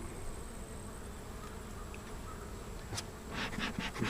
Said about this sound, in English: Not a lot of bees, but they kind of scatter around.